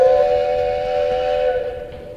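In the Hitman Contracts video game, a train whistle sounds on mine tracks as one loud, sustained, steady tone that fades a little near the end, heard alone with no talk.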